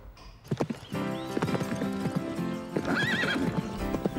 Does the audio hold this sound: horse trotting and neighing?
yes